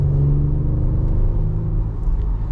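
Engine of a 2024 Audi SQ5 pulling hard under acceleration, heard from inside the cabin as a loud, steady low drone with rising tonal harmonics and a brief shift change, with no talking.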